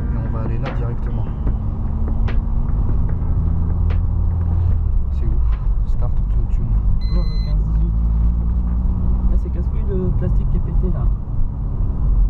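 A BMW E36 318is with a turbo conversion is driven for the first time on its proper engine computer, giving a loud, steady low engine drone that rises and falls as it moves, while people talk over it inside.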